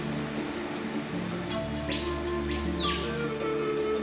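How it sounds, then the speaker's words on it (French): Païpayo birds call in the Amazon forest, a single rising, sustained whistle that holds and then drops, heard over a steady hum of forest insects and background noise. "l'appel des païpayos, oiseaux emblématiques de la forêt amazonienne"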